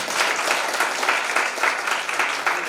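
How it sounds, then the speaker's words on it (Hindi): A school gathering claps loudly for a primary school teacher retiring after long service, a steady, close wash of many hands clapping without any voices over it. "जोरदार तालियां आज बनती हैं"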